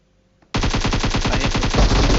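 Rapid automatic gunfire in a video game, a loud sustained burst of close, evenly spaced shots starting abruptly after a brief quiet moment.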